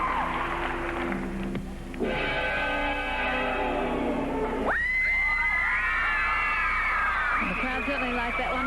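Arena crowd at the 1996 Australian Olympic women's gymnastics trials cheering and whistling, with shouts rising sharply partway through, under a commentator's voice.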